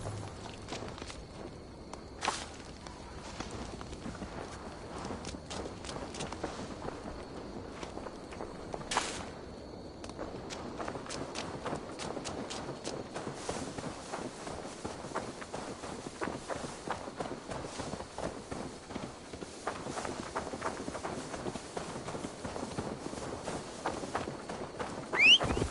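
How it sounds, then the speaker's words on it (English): Horse hooves walking in a video game, quiet and fairly distant, a long run of soft, irregular thuds over faint ambience, with one louder hit near the end. "Now to deliver Magni his horse"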